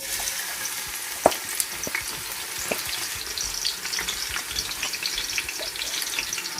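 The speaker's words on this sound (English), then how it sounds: "the vegetable oil have been heated up, so I'll be adding the chopped onion" Chopped onion hitting heated vegetable oil for Nigerian fried rice, a bright steady sizzle with sharp spatula clacks and stirring scrapes, close and with no talk.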